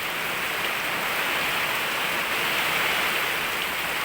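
Heavy rain from a tropical storm in the rural Philippines pours down as a steady, dense hiss with no pauses or voices.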